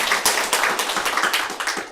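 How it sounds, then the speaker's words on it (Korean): A church congregation claps together in a quick, fairly regular rhythm, each clap sharp and close, filling two seconds without talk. "큰 박수로 하나님께 영광을 돌리도록 하겠습니다"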